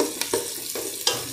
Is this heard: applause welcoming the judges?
no